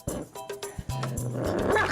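Small puppy guarding its food, giving a few close growls and short barking yips, then a sustained low growl rumbling on under other faint sounds.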